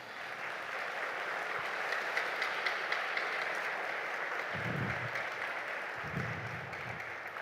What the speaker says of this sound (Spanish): ¿Alguien puede darle un fuerte aplauso al Señor?